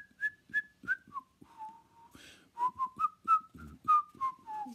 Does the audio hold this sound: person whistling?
yes